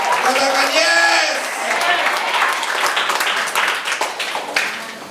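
A church congregation claps hands together at a Sunday worship service, dense steady clapping following a moment of voices and a sung or spoken tone at the start, with cheering mixed in.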